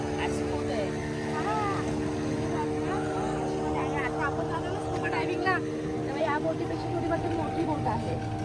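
A boat engine drones steadily on the water near Tarkarli beach at Devbag in the Konkan, a constant mechanical hum running throughout beneath people chatting.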